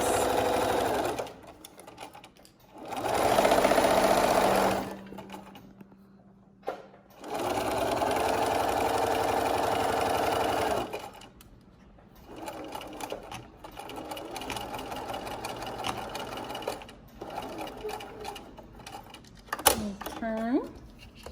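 A sewing machine stitches the rolled seam along the edge of a fabric dog bandana in several loud bursts of rapid whirring, separated by pauses, with quieter handling sounds and a soft voice in between.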